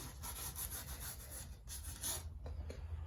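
Oil paint scraped across a small canvas with a palette knife, a soft, close rubbing and scraping with short strokes, faint and quiet with no talk.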